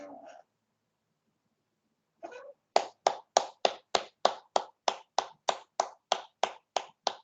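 Hand clapping warm-up at a faculty development session: after a brief voice and a pause, a long run of about sixteen sharp, close claps in a quick, steady rhythm.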